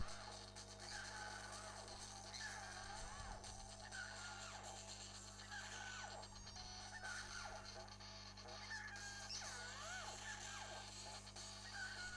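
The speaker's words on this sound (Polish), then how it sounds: "niefortunnie oczywiście musiałem skoczyć na tą kurę" Hen clucking in the platform video game Pekka Kana 2 during a boss battle on Rooster Island, repeated squawky fowl calls over steady game music throughout.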